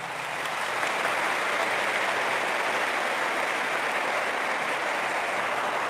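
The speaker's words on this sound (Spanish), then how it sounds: "un aplauso para ellos" Church congregation applauding to welcome visiting guests, dense sustained clapping that swells in within the first second and holds steady and loud throughout.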